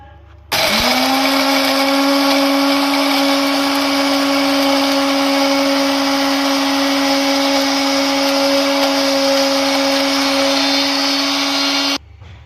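Electric grinder pulverizing Balti Gosht masala spice powder, a loud steady high-pitched motor whine that starts abruptly, runs continuously for about eleven seconds, then cuts off.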